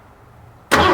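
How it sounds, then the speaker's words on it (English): A 39-year-old Ford F150 truck that cranks but won't start sits quiet, then its starter suddenly engages with a loud, close, broadband cranking roar. "let's have Matt crank the engine for us"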